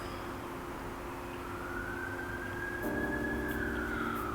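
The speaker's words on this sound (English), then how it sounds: "if y'all can hear like an ambulance" An ambulance siren passes somewhere outside a room, its wailing tone sweeping slowly up and back down and growing louder toward the end, heard faintly through steady indoor background noise.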